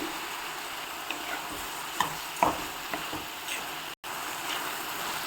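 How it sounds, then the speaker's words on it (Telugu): Mashed tomatoes with salt fry in oil for a spicy Rayalaseema tomato curry, giving a close, even sizzle with several scraping stirs and clinks, briefly cut off near the end. "ఇలా ఆయిల్ పైకి తేలే వరకు టమాటాలు ఫ్రై చేసుకోవాలి"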